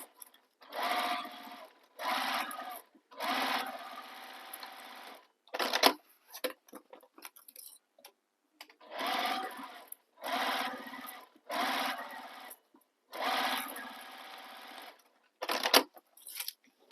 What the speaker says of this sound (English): we're going to sew these with the seam allowance given in the pattern